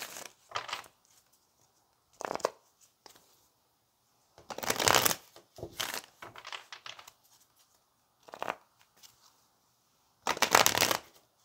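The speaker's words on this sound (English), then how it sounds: "Let's go ahead and pull some more cards." A deck of tarot cards is shuffled close up in several short, crisp bursts of riffling and sliding separated by quiet pauses.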